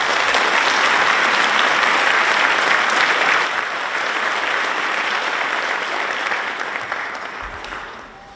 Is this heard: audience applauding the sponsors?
yes